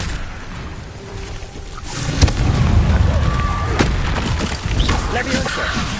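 Incendio fire spell in Hogwarts Legacy on PS5, a whooshing burst of flame with sharp cracks amid rumbling combat effects, building loudly after a quieter start, with a voice talking over it.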